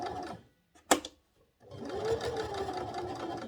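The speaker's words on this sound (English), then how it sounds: "do an edge stitch right here" Sewing machine running an edge stitch along fabric, a sharp click and brief pause followed by a steady, close, rapid whirring stitch run that continues to the end.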